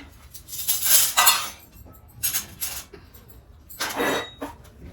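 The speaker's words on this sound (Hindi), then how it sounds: "तो चलो ये बर्तन मैंने सेट कर दिए हैं।" Dishes and utensils clink and clatter in bursts as they are set out in a home kitchen, with short pauses between handling sounds, close and fairly loud.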